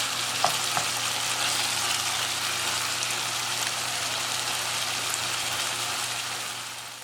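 Minced mutton keema frying dhaba style in a pan, a steady close hissing sizzle with a faint low hum beneath and a couple of light utensil taps near the start, no talk.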